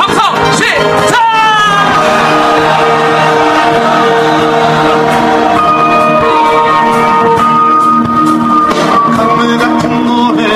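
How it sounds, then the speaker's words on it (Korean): A large crowd at a protest rally against the Korea-US FTA shouts and cheers loudly and continuously, a sustained roar of many voices with tonal yelling mixed in. "다시 한번 한미 FTA를 막아내기 위한 함성 시작!"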